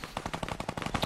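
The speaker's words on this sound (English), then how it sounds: "I'm getting shot at by a rocket launcher almost in the back of the head." Rapid bursts of gunfire and rocket launcher shots from a Fortnite battle royale match, a dense, fast rhythm of sharp cracks filling the moment without talk.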